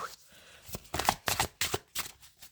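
Playing cards are drawn one by one from a deck, giving a series of short, close snapping flicks at a steady pace, with a voice speaking softly underneath.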